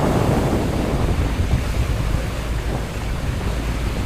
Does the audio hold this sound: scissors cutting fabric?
no